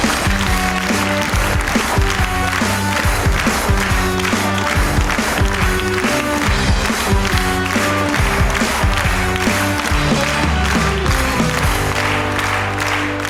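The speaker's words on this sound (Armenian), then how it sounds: "Ծափարություններով դիմավորում ենք Բաբախանյան Սաթենիկ" A studio audience gives sustained, dense applause, steady and loud throughout, as a 14-year-old contestant is welcomed onto the stage of a comedy show.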